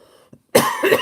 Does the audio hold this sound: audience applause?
no